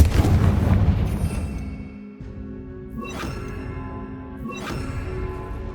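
Spell explosions from Bombarda and Confringo in the Hogwarts Legacy video game: a heavy rumbling blast at the start, then two sharper booming bursts a second or so apart, moderately loud with no talk.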